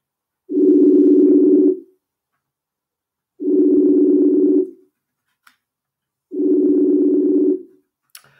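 A phone ringback tone repeats three times, each burst lasting over a second with long silent gaps between, clean and steady.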